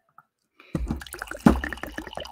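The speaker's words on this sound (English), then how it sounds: "Excuse me while I pour some coffee." Coffee is poured into a cup at a home talk-show desk: after a brief quiet moment, a steady liquid trickle runs close to the microphone, with a louder splash partway through.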